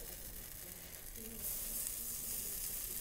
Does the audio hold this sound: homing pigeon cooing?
no